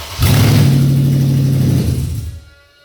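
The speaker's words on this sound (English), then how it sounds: "We're gonna test our starter real quick. We've got our cat off, so this might sound like a Camaro." 2011 Mercedes-Benz E550 4Matic engine with the catalytic converter removed, cranking and catching into a loud, deep, raspy idle close by, holding for about two seconds before being shut off and fading to quiet.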